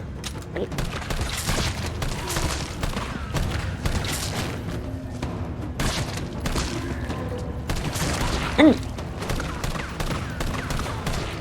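Gunshots in Resident Evil 3 at the Raccoon City hospital: a run of repeated dull thumping shots over a busy game background, fairly steady and mid-distance, with a voice heard briefly alongside.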